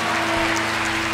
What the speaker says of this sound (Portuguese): E agora aplauda a unidade da Igreja de Jesus Cristo.